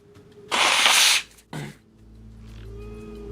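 A single loud sneeze bursts out, followed by a shorter second exhale or sniff, then a low steady hum remains.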